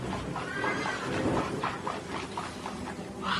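A horse pulling a carriage whinnies and snorts repeatedly in a loud, close series of neighs, with a rumbling, bustling background.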